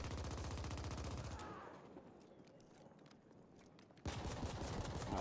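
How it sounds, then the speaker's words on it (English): A pistol in The Ascent fires as fast as the trigger is pulled, giving loud rapid-fire bursts of evenly spaced shots, then a quieter gap with background game noise before another burst of rapid shots. "As fast as I can press the trigger, I can actually shoot."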